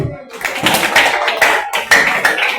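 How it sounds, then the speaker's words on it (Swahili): Congregation clapping at a Sunday school fellowship talent show in Kilifi, a dense burst of hand claps in uneven rhythm, fairly loud and close, with voices mixed in. "Pigeni makofi."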